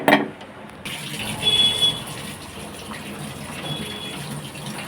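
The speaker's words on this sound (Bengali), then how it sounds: "মুখটাও আমি ধুয়ে নেব।" Tap water running steadily into a sink during face washing, a close, continuous gushing stream with no talking.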